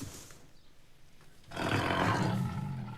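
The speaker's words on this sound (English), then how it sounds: "From his big cats, Craig is taking the white lion pride of Laduma, Mvula and their 2 cubs." A pride of white lions gives a deep, loud roar that rises suddenly partway through, following a quieter stretch of low rumbling and background noise.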